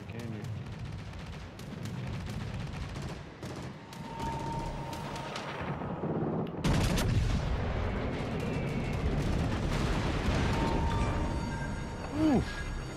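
Warship guns fire in World of Warships Legends: heavy naval artillery booms in repeated salvos, loud and rumbling, with a dense stretch of overlapping blasts in the second half.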